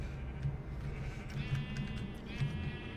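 Sheep bleat repeatedly in the Minecraft FTB modpack, several overlapping bleats over a steady low background hum, with no talking.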